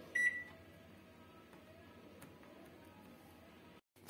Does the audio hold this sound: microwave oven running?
yes